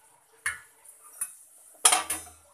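A spoon stirs cooked dal for pappu palakura in a pressure-cooker pot, producing a few sharp metallic clinks and scrapes, close and isolated, with quiet gaps between them.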